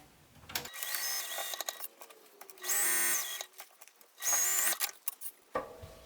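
A sewing machine stitches an apron panel in two quick bursts of high whirring, separated by short pauses and soft handling noises.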